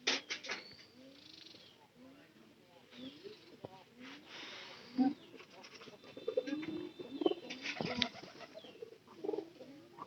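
Pigeons kept inside a coop give low, rolling coos again and again, close and fairly quiet, mixed with rustling, wing flutters and sharp clicks.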